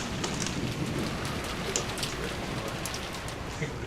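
Steady rain pours down in the Umineko visual novel, a dense, even hiss of drops pattering on surfaces, heard alone with no talk over it.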